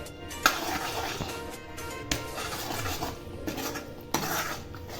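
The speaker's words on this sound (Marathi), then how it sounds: "आता मी हे वाटण या कढईमध्ये परतून घेणार आहे" Masala paste being sautéed in a kadhai for a chicken thali, heard as steady clinking and scraping of a spoon against the metal pan with a few sharper knocks, close and alone with no talk.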